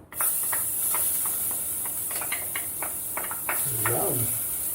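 Garlic sautés in a hot pot, a steady high sizzle running throughout at moderate level, with scattered clicks and light taps of cooking, and a brief low tonal sound near the end.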